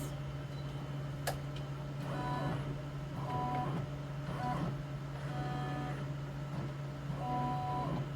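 An embroidery machine traces a design outline inside the hoop, giving a steady motor hum with soft intermittent whirring and faint beeping movements, moderately quiet, with no talking.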